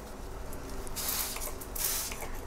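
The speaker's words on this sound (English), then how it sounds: "I'm just gonna spray the tops, the bottoms, and the stems." Two quick bursts of a spray bottle misting houseplant leaves and stems, a short hiss each, close by over faint background noise.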